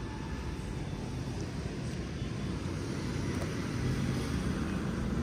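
An Ola S1 X electric scooter rides along on cruise control, with steady wind and road rumble filling the whole stretch at an even, fairly loud level.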